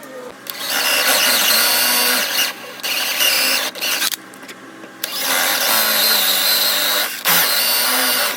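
A power tool cuts mortise and tenons for a wooden headboard, whining loudly in several long bursts separated by brief pauses.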